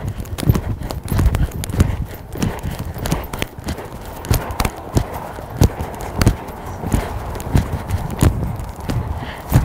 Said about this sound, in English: Right, a little pirouette canter.